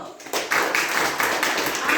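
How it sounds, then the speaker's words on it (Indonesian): Brief burst of classroom clapping, fast and fairly loud, from a group of students for about two seconds. "Jadi tepuk tangan dulu"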